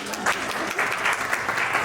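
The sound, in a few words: audience applause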